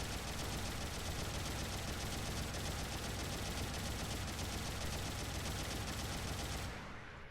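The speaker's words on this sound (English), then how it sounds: "If 60 bullets with these Vulcans is enough to stun." Vulcan guns from the Gundam Battle Operation 2 video game fire one long, unbroken rapid burst that is dense and steady, then cuts off near the end.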